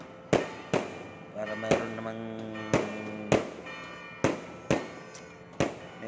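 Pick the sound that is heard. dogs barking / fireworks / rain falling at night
fireworks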